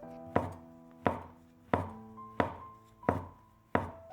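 Knife slicing shiitake mushrooms on a cutting board, seven crisp, evenly spaced chops about every two-thirds of a second, each with a short ringing decay, close and alone.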